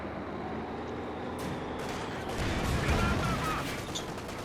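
Dense gunfire and explosions from the Company of Heroes 2 game, with a rolling fusillade of machine guns and heavy blasts, loud and continuous, building toward the end.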